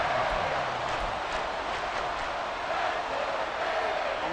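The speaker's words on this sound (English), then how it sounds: "This crowd turning up the decibel level." Stadium crowd roar in Madden NFL 24 during a late-game drive, a loud, constant wash of cheering and noise that holds steady without breaks and with no commentary over it.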